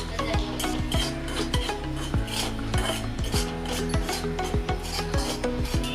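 Semolina (rava) is roasted on slow gas in a pan for sheera, with a spoon scraping and rasping through the dry grains in a continuous rhythm of strokes, close and steady, with no talk.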